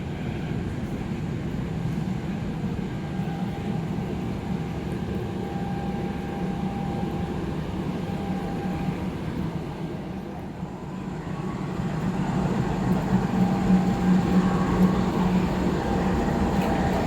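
Steady rumble and rolling clatter of the Jaka Lalana heritage train on its Cianjur–Jakarta trial run, a continuous close interior drone that swells slightly toward the end.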